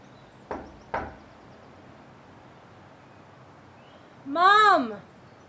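Two sharp knocks on a door sound close together near the start, followed by quiet room tone and then a brief high-pitched, tonal call or squeal.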